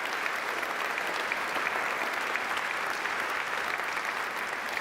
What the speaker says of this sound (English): Let's give a round of applause to the entire culinary community